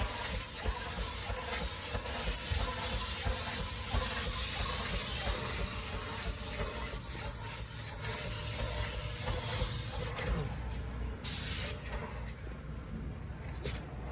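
A spray gun applies lacquer to cabinet boxes inside a tented, masked-off painting area, giving a loud steady hiss close by that cuts out briefly near the end and bursts once more before stopping.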